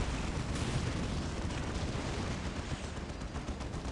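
Rockets slamming down and exploding in a Dawn of War Unification battle, forming a dense, steady roar of blasts and rumbling that stays loud and unbroken from start to finish.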